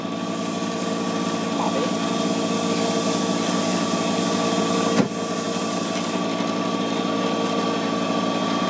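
A wood lathe spinning at 3000 rpm while a pen blank is sanded, a loud steady motor whine and hum with one brief knock partway through.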